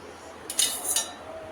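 A spoon drops two spoonfuls of yogurt into warm milk in a bowl, making two brief, light clinks against the bowl close by, with a quiet room behind.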